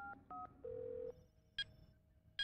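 Phone number keyed in within a cartoon: a string of short electronic DTMF tones, several quick beeps then one longer held tone, followed by two brief bright beeps, fairly quiet and without talk.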